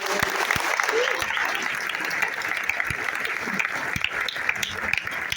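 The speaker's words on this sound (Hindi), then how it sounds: "मैं चाहता हूँ जोरदार ताली होनी चाहिए" Sustained, loud applause from a seated business-seminar audience in Thane fills the hall, dense and continuous with scattered sharper claps throughout.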